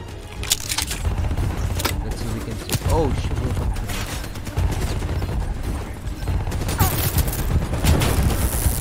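Gunfire rattles through a Call of Duty Black Ops 3 campaign battle, with sharp repeated shots and short bursts cracking over a dense, noisy background for several seconds, and a voice briefly heard amid the fighting.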